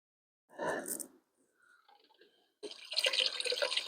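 A small aquarium pump is switched on and water begins streaming and splashing, with a brief burst of trickling followed by a steady, louder rush of flowing water close by.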